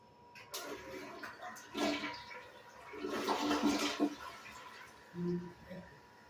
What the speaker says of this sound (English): so I will flush it again